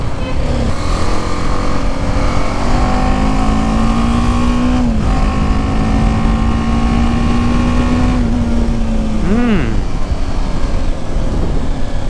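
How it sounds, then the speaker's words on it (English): A motorbike engine drones loud and steady, held at a constant rev, then blips the throttle in a quick rise and fall near the end before settling again. "Let me check the throttle response over here."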